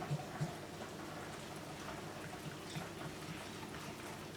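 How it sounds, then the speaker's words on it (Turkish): Yogurt, flour and egg yolk whisked together in a bowl for yayla soup, a soft, steady, fairly quiet scraping and swishing with small repeated clicks and no voices. "Bunları ilk etapta bir güzelce çırpıyorum."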